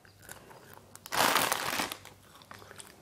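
Crunchy dried beef is bitten and chewed close to the microphone, a loud crackling crunch lasting under a second amid quieter chewing and crinkling noises.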